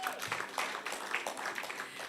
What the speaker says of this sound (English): This is the small clap you are giving him.